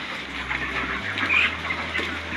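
Chickens at feeding time on a family farm in Lucban, Quezon, clucking and chirping steadily close by over a low constant hum, with a brief flutter of activity midway.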